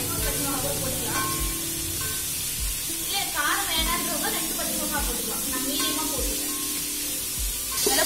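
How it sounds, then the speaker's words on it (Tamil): Onions sauté in a pan for mutton biryani, a continuous soft sizzle and hiss with occasional light stirring knocks, while a person talks over the cooking. "வெங்காயம் நல்லா வதங்கினாதான் பிரியாணி ரொம்ப டேஸ்டா இருக்கும்"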